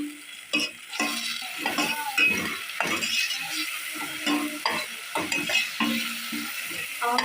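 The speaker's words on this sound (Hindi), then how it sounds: "इसको तकरीबन 1-2 मिनट तक भूनते रहिए, लो फ्लेम होनी चाहिए आपकी" Masala sautéing in a pan over a low flame, a steady sizzle broken by frequent rhythmic scrapes and stirs of a spoon against the pan, close up with no talking.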